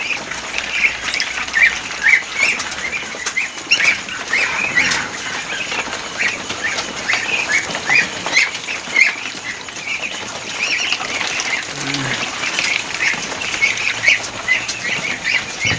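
Muscovy ducks of the Rambon variety in a rearing pen, with bursts of wing flapping and scattered squawks and calls over a steady noisy background throughout.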